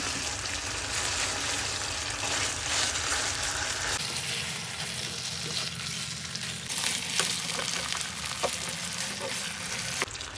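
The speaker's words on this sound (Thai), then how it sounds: "ทอดจนมั่นใจว่าเนื้อใส่ทั้งสองฝั่งสุกทั่วแล้ว" Milk-marinated chicken breast fries in a pan with a steady, dense sizzle throughout, occasionally shifting as the pieces are stirred or turned, close and fairly quiet with no voices.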